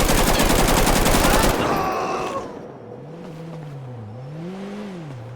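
Dense rapid gunfire in GTA 5 rattles loud and close for about two seconds, then cuts off, leaving a lower groaning, wavering tone beneath.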